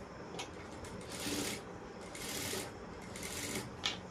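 A sewing machine runs stitches close to buckram on a kurti in short whirring bursts with brief pauses between them, soft and close.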